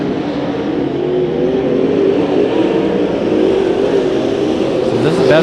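Limited late model race cars roar around a slick dirt track at a race meeting, a loud, steady engine drone that holds throughout with no break, voices faint beneath it.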